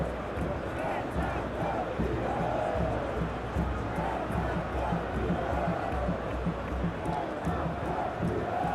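Stadium crowd in the PES 21 football video game before a Brazil versus Germany World Cup final. A constant, loud crowd roar with chanting swells fills the whole stretch at an even level.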